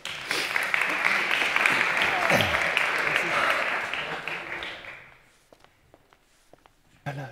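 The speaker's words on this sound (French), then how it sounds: "Merci de l'applaudir." A conference audience applauds as a guest speaker is called up for a session on degrowth. Dense clapping fills the first few seconds, then fades out around five seconds into near-quiet with a few scattered knocks and footsteps, and ends with a sudden thump.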